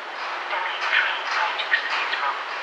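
A steady, hissing rumble of a train rolling in at a station platform in Poznań, Poland, with faint squeals and clanks rising and falling over a continuous roar.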